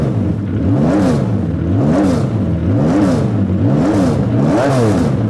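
A TVR Speed 12 engine revs repeatedly, rising and falling about five times in a steady rhythm, loud and close with a rasping exhaust and no talking.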